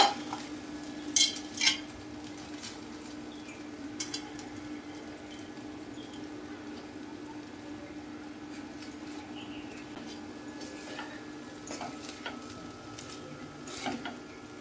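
Cooked rice is tipped into a pan of Bengali-style fried rice and stirred, giving soft steady scraping with a few clinks of the utensil against the pan, quiet and without talk.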